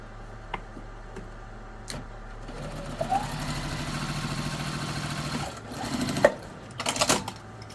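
A sewing machine stitches down quilt binding, a few scattered clicks and taps first, then a steady fast mechanical whir with rhythmic ticking that stops and restarts near the end.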